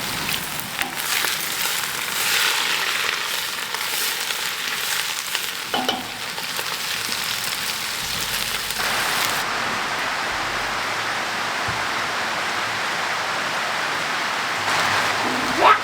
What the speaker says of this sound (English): The onions, peppers, celery and mushrooms are sautéing nicely